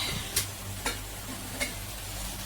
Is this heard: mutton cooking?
yes